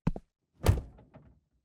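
A door thuds as someone rushes out, with a sharp knock and then a heavier, booming thump followed by a fainter rattle, close and brief with no voices.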